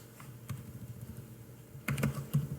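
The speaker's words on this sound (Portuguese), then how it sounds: "Se eu digitar aqui" Keys on a computer keyboard clack in a sparse few taps, then a quick close burst of typing near the end, over a low steady room hum.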